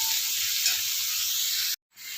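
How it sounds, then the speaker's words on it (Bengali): Potatoes and onions fry in a pan and are stirred, giving a steady, close sizzle with light scraping. The sound cuts off abruptly near the end, then returns more faintly. "আমি আলু আর পেঁয়াজ একসঙ্গে নাড়িয়ে চাড়িয়ে ভালো করে মিশিয়ে নেব, দিয়ে একটু ভাজা ভাজা করে নেব।"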